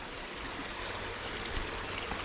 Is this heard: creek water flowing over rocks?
yes